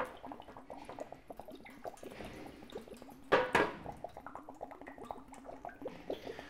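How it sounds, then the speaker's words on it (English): Water drains from a punctured block of clear ice sitting in a pan, a soft trickle and irregular dripping with one brief louder splash midway, close and fairly quiet. "I like to just pop a hole into it and then just drain that water out"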